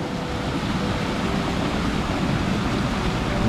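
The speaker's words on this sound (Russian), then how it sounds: "Такой приятный шум воды." Water rushes steadily down a canal cascade in Old Peterhof, a broad, constant hiss and roar close by, with no pauses and no voices.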